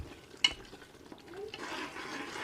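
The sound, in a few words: spice paste being fried and stirred in a pan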